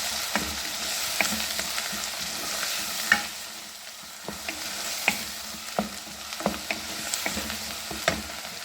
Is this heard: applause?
no